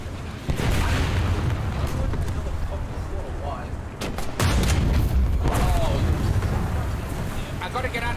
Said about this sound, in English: There's artillery! There's someone firing at me!